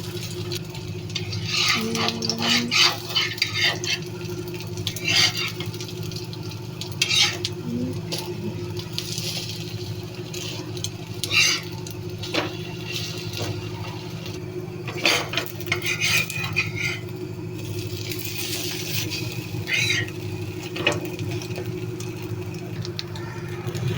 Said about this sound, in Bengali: ঘি দিয়ে পাউরুটি বাজতেছি, ঘিয়ের অনেক সুন্দর একটা স্মেল বাড়ছে